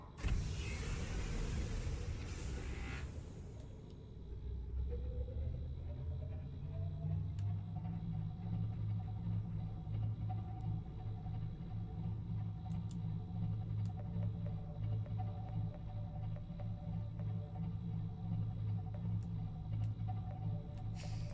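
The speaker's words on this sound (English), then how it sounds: "Engine powering up." Submarine engine in the video game Subnautica powering up: a rising whir settles into a steady low hum with a faint higher tone above it, continuous and fairly loud, with no talk.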